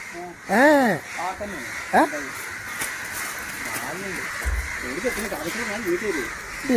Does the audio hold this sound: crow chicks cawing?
yes